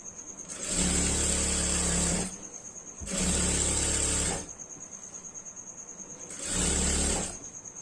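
A sewing machine stitching a long frock, three loud runs of steady motor whirring and needle rattle, each about a second and a half long, separated by quieter pauses with a faint ticking hum.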